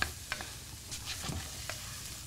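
Stir fry cooking in a pan, a faint, steady sizzle with a few soft scraping stir strokes and light clicks.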